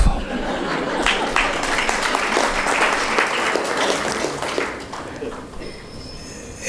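An audience claps at a Goa Hindu Association centenary celebration, a dense sustained burst of applause that fades toward the end.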